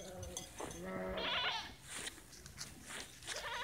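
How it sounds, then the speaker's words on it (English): A wool sheep bleats in a farmyard, several wavering calls overlapping at moderate distance, some animals nearer than others, against steady outdoor background noise. "that's a wool sheep"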